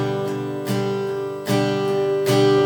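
An acoustic guitar strums steady, ringing easy chords for a song without capo, with three firm strokes about every three-quarters of a second, close and clear with no voices.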